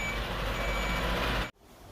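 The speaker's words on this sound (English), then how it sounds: "So there's our delivery truck, guys, and they're just coming through and parking up now." A delivery truck reverses and parks up outside a house during a kitchen renovation, its engine rumbling steadily with a high reversing beep tone, then cutting off abruptly to near quiet.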